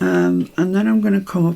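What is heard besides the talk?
None of the usual background noises is heard.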